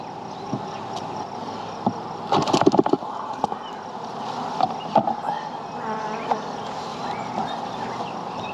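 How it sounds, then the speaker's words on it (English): Honey bees buzz in a dense, steady drone as frames from a hive box are shaken during beekeeping work, with a few sharp knocks and rustles from the frames rising briefly over the swarm. "what we're gonna do is shake all the frames with bees"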